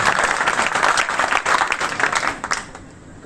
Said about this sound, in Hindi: उसके लिए मैं ताली बजा रहा हूं।